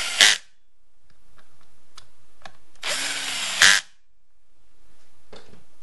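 A power screwdriver drives screws while a STIHL MS 250 chainsaw is being assembled: two short, loud whirring bursts of the driver, close up, separated by quiet pauses and small handling clicks.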